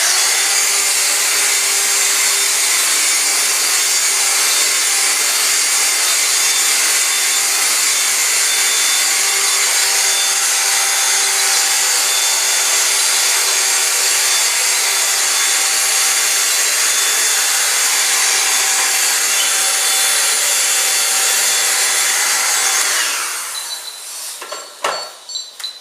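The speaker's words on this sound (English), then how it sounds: "We'll also vacuum up all the hair that's left on that." A vacuum cleaner sucks up clipped hair from an animal being prepared for surgery, with a loud, steady whooshing roar lasting over twenty seconds before it shuts off abruptly.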